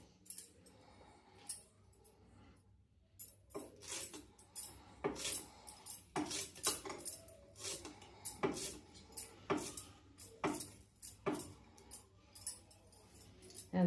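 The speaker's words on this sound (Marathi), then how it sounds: "कोथिंबीर बारीक चिरून घ्यायची." A knife finely chopping coriander on a board, a run of sharp, irregular taps that start sparse and grow busier, close and fairly quiet, with no voices.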